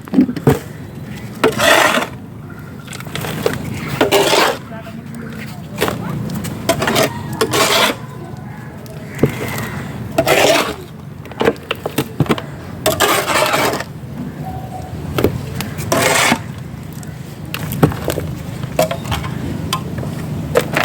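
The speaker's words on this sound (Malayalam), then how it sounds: "അതിനുശേഷം വീണ്ടും നമുക്ക് മണ്ണിടാം." Soil added to a plant pot for an almond sapling, heard as repeated close bursts of gritty scraping and pouring with short quiet gaps between scoops.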